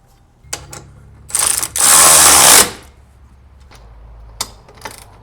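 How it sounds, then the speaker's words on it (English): Bolts being tightened on a 2002 Honda CR-V, with a few sharp ratcheting clicks and scraping metal bursts, one longer loud grinding stretch in the middle, heard up close. "They're basically rubbing the color off of each other as I tighten them up."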